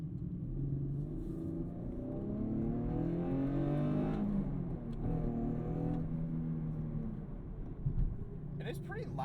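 Inside a modded V6 2019 Camaro 1LE on the move, the engine and stock exhaust drone and rumble steadily through the cabin, loud and constant, with a person talking over it.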